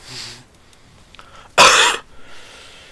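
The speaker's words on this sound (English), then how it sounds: "Sorry about that cough." A single sharp, loud cough bursts out during Planetside 2 gameplay after a quiet stretch with faint background murmur, then fades to near silence.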